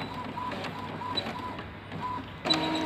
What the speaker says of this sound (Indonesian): Jadi untuk kecepatan printer Epson L3210 seperti ini jika untuk mencetak belangko undangan